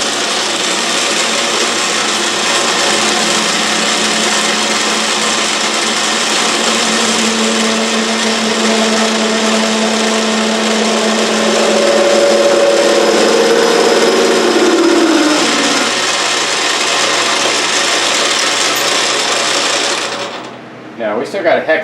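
A lathe on auto feed runs as a steady loud machine hum for about twenty seconds, with a faint tone rising and falling midway as the cutting tool intermittently bites the workpiece, then the motor winds down.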